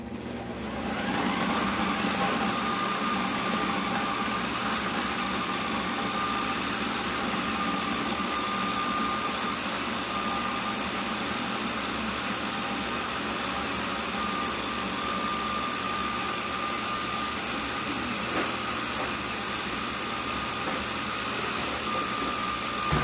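A kitchen blender runs nonstop on food for over twenty seconds. The motor gives a loud, steady whir that stays constant throughout, with no talking.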